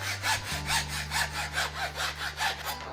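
A hacksaw cuts off a piece with even back-and-forth strokes, about ten rasping passes in under three seconds, close and loud, alone over a low steady hum.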